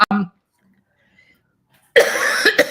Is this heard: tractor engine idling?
no